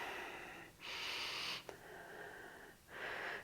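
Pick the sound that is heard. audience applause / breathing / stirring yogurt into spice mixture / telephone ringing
breathing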